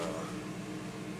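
A 1991 GMC Jimmy engine idles steadily on a chilly day, a low continuous rumble heard from a short distance with no talk.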